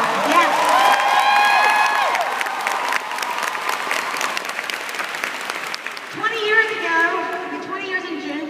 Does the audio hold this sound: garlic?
no